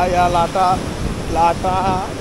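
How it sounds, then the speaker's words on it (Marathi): Ocean waves in Goa rush and roar as steady broadband noise with wind buffeting the microphone, while people's voices break through intermittently. "या आल्या लाटा"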